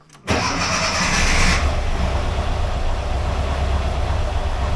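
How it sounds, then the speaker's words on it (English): A 1982 air-cooled VW Vanagon Westfalia engine cranks and catches after a brief quiet moment, then settles into a steady, loud rumbling idle close by. "So as soon as I start it, right?"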